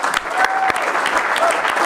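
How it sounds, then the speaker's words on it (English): Brief burst of audience applause honoring veterans at a tribal council meeting, loud and close with distinct individual claps in the mix. "Let's give everyone another round of applause."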